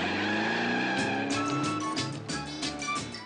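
Modified Volkswagen Beetle with a Porsche engine making a fast takeoff, a loud revving engine with tires squealing and screeching in repeated bursts as it launches.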